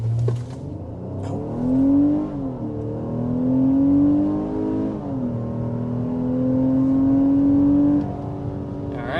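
A 2023 Honda Pilot or Nissan Pathfinder SUV with a 3.5-liter V6 accelerates hard, its engine note climbing in pitch through several gear changes, heard from inside the cabin with no talking.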